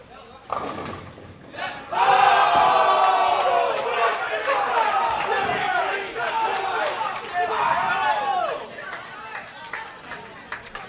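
At a college bowling match, a crowd cheers loudly after a strike that picks up a split. The roar builds into sustained shouts and whoops over a noisy hall, with a thud and some chatter mixed in.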